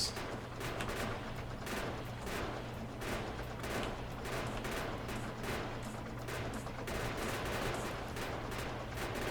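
Rapid bursts of video game gunfire used to clear out trees while building a base, a continuous crackle of repeated shots with no talking.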